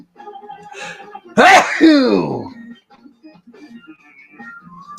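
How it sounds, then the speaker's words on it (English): A single loud sneeze bursts out mid-clip, framed by quieter breathy vocal sounds before and after. "Usually sometimes I go on a sneezing fit"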